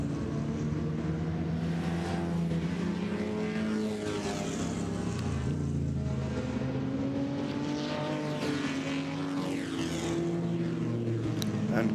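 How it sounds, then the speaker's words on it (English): Classic Aston Martin and Jaguar C-Type sports racing cars at Le Mans, engines droning and shifting pitch as they pass, a continuous fairly loud roar with no voices. "The Aston has made its escape for a little bit for a short while, but it's now got the C-Type on the back."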